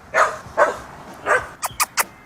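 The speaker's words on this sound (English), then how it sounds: "Sorry, my dog is outside." A dog barks outside, several short barks spaced apart, then a quicker burst of three sharp yips, moderately loud with no talk over them.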